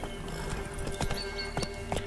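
A horse in The Witcher 3 video game clip-clops with a few hoof strikes and a brief whinny, close and clear against a steady game ambience.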